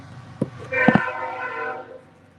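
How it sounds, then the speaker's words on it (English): A train horn sounds nearby: two short blasts, then a sustained tone lasting about a second before fading, over a low rumble of the passing train. "And there's a train."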